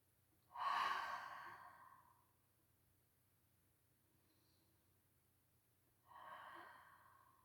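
Slow, deep breathing during a yoga session: one long, close exhale fades out gradually, and after a quiet pause a second, softer breath follows.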